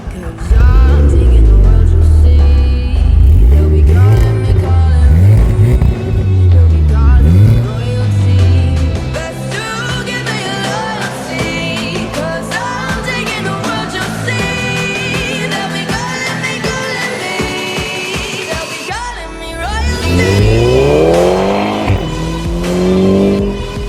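Stage 2 tuned 350 bhp Audi TTS coupe driving on an open road, with a loud engine rising and falling through the revs and tire noise. Near the end it sweeps up hard under heavy acceleration. No one speaks.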